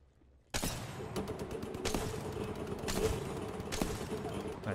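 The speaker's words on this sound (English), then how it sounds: "Right there, he's shooting somebody" Rapid bursts of gunfire in the battle-royale shooter Apex Legends, loud close volleys starting abruptly and repeating in clusters over a steady game soundscape.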